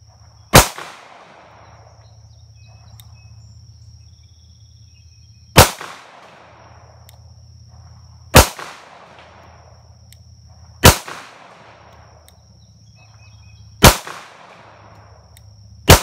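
Kimber Pro Raptor 2 pistol fired slow and deliberate, six sharp, loud shots spaced several seconds apart, each with a short echoing tail over a low steady rumble, with no talking.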